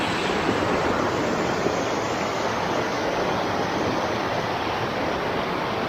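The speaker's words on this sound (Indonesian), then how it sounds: "sungai yang cukup deras" A fast-flowing river below a cliff near Malang, Java, giving a loud, constant roar of rushing water with a dense hiss and no talk.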